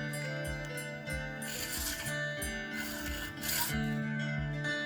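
Piece of junk material for a DIY steampunk pirate gun being cut to length, a steady, close rasping saw stroke repeating in an even back-and-forth rhythm, loud and alone without talk.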